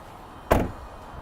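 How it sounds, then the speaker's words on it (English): Power sliding door on a 2017 Dodge Grand Caravan SXT Plus sliding open after one hand pull, a single short mechanical whoosh and thud lasting about a quarter second, close and fairly loud against quiet surroundings. "This does have a power sliding door. Just pull it once with your hand and the door will do the rest of the work for you."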